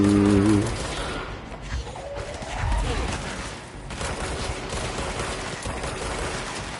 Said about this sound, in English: See, I like the shooting in this a lot more than Red Dead right now.